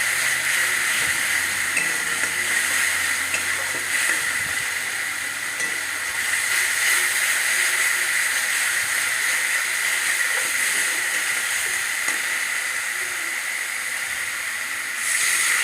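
Spice paste sautés in a pan with a steady, loud, close sizzling hiss that continues unbroken for the whole stretch with no voices.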